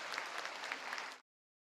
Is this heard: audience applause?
yes